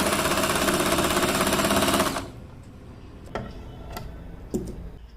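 A sewing machine stitches newborn baby socks in a fast, steady mechanical run for about two seconds, then stops. A few sparse clicks and taps of handling follow.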